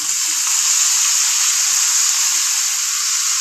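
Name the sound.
kolmi greens added to frying onion and garlic, sizzling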